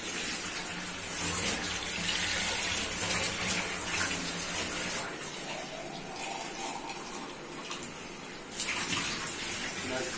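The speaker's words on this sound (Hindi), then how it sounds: "अब मैं इसमें पांच प्यालों के हिसाब की यखनी डाल दूंगा" Stock (yakhni) poured into a pot of fried meat in a home kitchen: a steady, loud gushing liquid pour lasting several seconds, close by, with a brief surge near the end.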